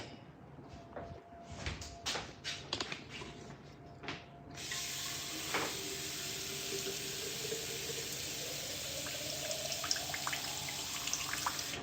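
Water runs steadily from a tap into a sink or container while gluten-free French desserts, almond financiers and vanilla custard, are being made. It comes after a few clicks and knocks and keeps up as a close, constant hissing stream.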